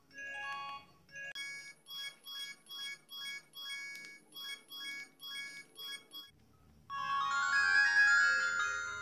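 A built-in puzzle game on a Ti.Phone T90 mobile phone plays electronic beeping tones: a short jingle, then a steady run of repeated chiming blips, then a brief pause and a brighter sustained melody, all clear and close.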